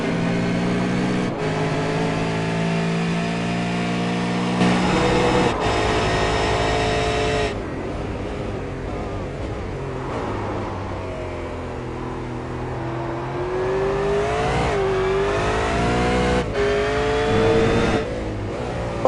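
A V8 Supercar racing at Phillip Island, its engine roaring loud and close as it shifts down through the gears with repeated rev changes, then accelerating hard again, without talking.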